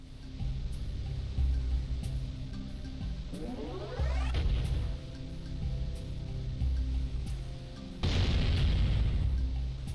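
A turret fires in the Jak and Daxter Precursor Legacy video game, setting off a run of booming explosions and one rising whoosh over a steady game-music bed. The blasts come in loud bursts, the biggest near the end.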